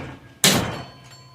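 A bicycle stem wedge struck loose during inspection of a used project bike, a single sharp metallic knock with a brief ringing decay, loud and close.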